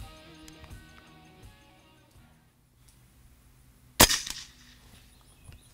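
A BroCock Commander air rifle fires one loud, sharp crack close by. It is set against a quiet room, with a brief rattling tail after the shot.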